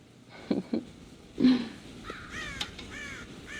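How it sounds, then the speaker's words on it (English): Crows cawing in the Red Dead Redemption video game, a few harsh caws followed by fainter, higher bird calls, moderately close against a quiet outdoor background. "God damn crows!"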